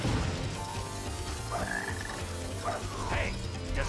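A frog croaks repeatedly in the video game Sonic Heroes, a few rising and falling calls standing out over dense game music and effects.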